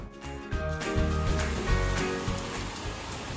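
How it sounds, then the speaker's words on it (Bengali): Heavy evening rain pours in a steady, dense hiss that rises after the first half-second and holds at an even level. A faint tonal hum runs underneath and no one speaks. "ঝমঝমে বৃষ্টি হচ্ছে"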